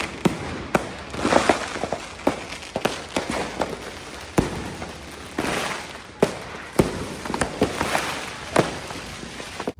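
Repeated sharp bangs and crackles of New Year fireworks going off at irregular intervals across Taylorville, USA, some close and loud, others more distant, over a steady background rumble.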